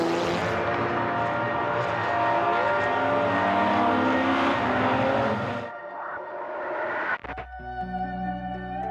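A small Italian car racing in the 2007 Tour Auto roars past with a sustained, rising engine note, then fades and gives way to a sharp mechanical tone at the end.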